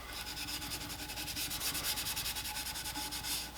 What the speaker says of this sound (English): So I'm just going to buff the sheen down with some steel wool.